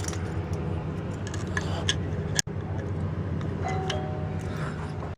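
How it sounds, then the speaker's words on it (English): A dog presses a doorbell with its paw at a house door, giving a ding-dong chime over steady background noise, followed by a brief sharp click and a short gap. "There you go, you rang the doorbell."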